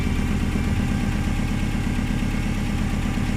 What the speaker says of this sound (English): I love the sound of an engine with fresh oil in it.